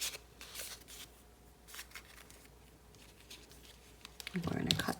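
Scissors trimming small paper pieces for a heart album craft project, giving faint snips and soft paper rustles close by, with a voice talking over them near the end.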